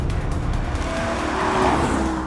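2016 Ford Mustang GT 5.0 V8 fastback engine, a loud deep roar with rising revs and tyre noise, continuous and close, with no talk.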